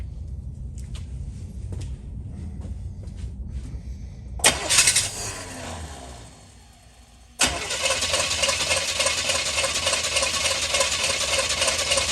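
Chevy Nova engine being cranked on fuel injection, a rough starter churn followed by a brief quiet gap, then a loud, steady cranking drone that runs on to the end.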